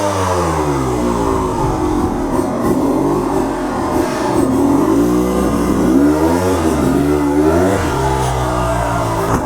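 Enduro motorcycle engine held close, revving up and down with quick throttle and clutch blips, a loud buzzing drone whose pitch rises and falls in repeated sweeps throughout, with no voices.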